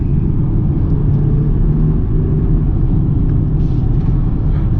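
A 2021 BMW X3 xDrive30i engine drones loudly and steadily from inside the cabin as a downshift is attempted, a constant low rumble with no clear rev change and no voices.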